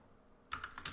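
Computer keyboard typing while writing code, a quick burst of several close, crisp keystrokes after a brief near-silent pause.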